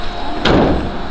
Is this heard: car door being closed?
yes